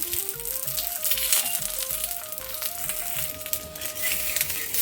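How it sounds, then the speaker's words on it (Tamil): Puran poli fries in a little oil on a pan over low heat, a soft continuous sizzle under steady background music, with a few faint crackles. "இப்போ வந்து நம்ம திருப்பி போட்டுக்கலாம் கொஞ்சமாக எண்ணெய் விட்டுக்கலாம்"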